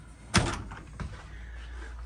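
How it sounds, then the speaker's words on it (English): A sliding door in a 2019 Grand Design Transcend 27BHS RV closes with one sharp thunk near the start, a softer knock about half a second later, then quiet room tone. "Sliding door."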